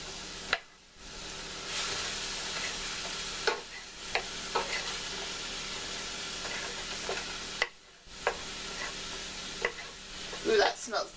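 Bacon grease sizzles steadily in a pan, loud and close, while a utensil stirs and scrapes now and then, with brief pauses in the frying hiss.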